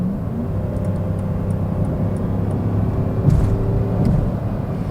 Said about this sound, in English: just the way how the engine screams is really enticing